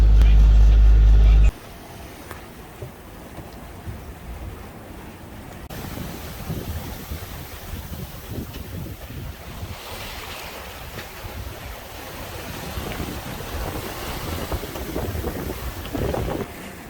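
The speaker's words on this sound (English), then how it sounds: "We're sailing from Eiburg, Amsterdam to The Hague." Sailboat under way along the Dutch coast between Amsterdam and The Hague, with steady wind buffeting the microphone and water rushing and slapping against the hull, someone talking briefly over the noise at the start.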